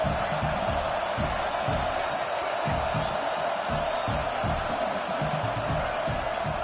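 A football stadium crowd roars steadily, a dense continuous wash of cheering and shouting with no breaks, loud throughout.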